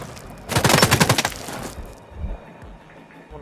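Rapid gunfire in a video game featuring a sniper rifle, a dense loud burst of repeated shots lasting about a second, then quieter thuds and background game noise.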